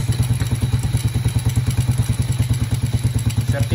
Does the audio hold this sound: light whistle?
no